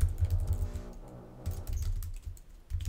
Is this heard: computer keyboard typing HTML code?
yes